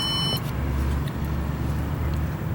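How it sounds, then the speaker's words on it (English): Auto-leveling system on a 2022 Impact 359 trailer adjusting its landing gear, a steady electric motor hum with a brief beep at the start, close and continuous. "it's going to adjust the front landing gear, and then it will adjust the rears"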